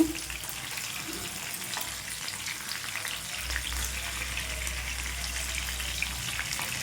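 Pieces of khana (fish) frying in hot oil, a steady low sizzle and crackle that runs the whole time at moderate level with no talking.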